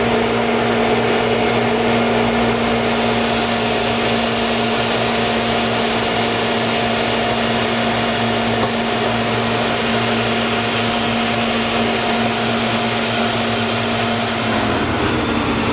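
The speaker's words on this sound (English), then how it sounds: "We'll go ahead and turn our blast wheel on." IMPACTS S270E-75R shot blaster with its blast wheel running on a floor, a loud, dense, unbroken roaring hiss with a steady hum underneath, close up, shifting slightly near the end.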